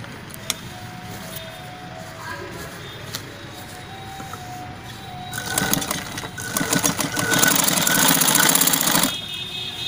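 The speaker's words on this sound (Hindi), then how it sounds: "अब मैं आपको इसमें सिलाई निकाल के दिखाता हूँ कि जीन्स का मेरे पास में ओल्ड जीन्स है" A sewing machine stitches through old denim jeans, quiet clicks at first, then a loud rapid mechanical rattle that runs steadily for several seconds before stopping.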